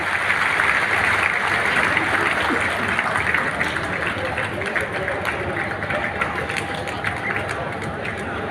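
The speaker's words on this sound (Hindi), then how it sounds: "स्वागत में जोरदार ताली बजा करके खड़े" A large audience at an airport inauguration event in Rewa claps loudly to welcome Prime Minister Modi and Dr. Mohan Yadav, a dense continuous wash of applause that holds steady throughout.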